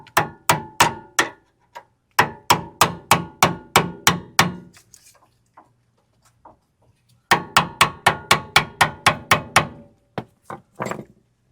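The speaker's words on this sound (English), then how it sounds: "put the pry bar in here and whack it with a hammer a couple times until the plate falls out" Loud, sharp metallic hammer strikes on a pry bar, freeing a plate on a 4th-generation Toyota 4Runner lower control arm, come in quick bursts of about six to nine blows, separated by brief pauses, close up.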